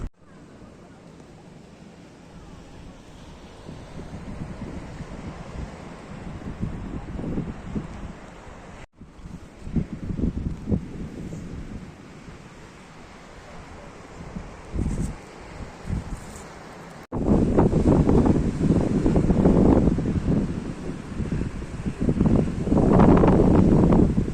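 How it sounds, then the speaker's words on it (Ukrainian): Strong winter wind on the Black Sea coast in Odesa, Ukraine, at minus 3 degrees buffets the microphone in a steady roar that grows louder and rougher toward the end, with faint voices underneath. "Дуже величезний вітер."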